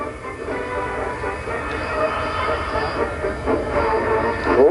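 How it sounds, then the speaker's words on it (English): A Douglas DC-3 on floats, the only one of its kind, begins its takeoff roll on water, giving a steady broad engine roar with hiss that builds slightly toward the end, heard alone without talk. "As he starts his takeoff roll from the right"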